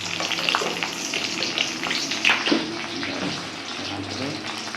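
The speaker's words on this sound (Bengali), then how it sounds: "আবার মাছটা নেড়ে দাও" Fish frying in a pan with ground cumin and coriander, stirred repeatedly, giving a steady close sizzle broken by scraping stirs and soft clatter.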